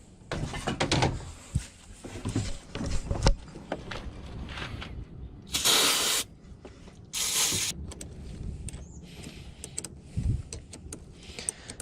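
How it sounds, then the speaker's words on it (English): Cleaner sprayed onto a car battery ground cable: two distinct hissing spray bursts, each about half a second, amid nearby handling and clunks under the hood. "use some cleaner to clean up this ground cable here"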